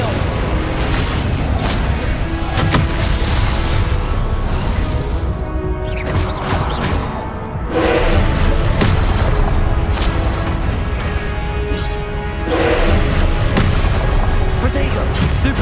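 Hogwarts Legacy spellcasting with Incendio and Confringo fire blasts: dense, loud booming bursts and crashing impacts that follow one another over a continuous roar of combat noise.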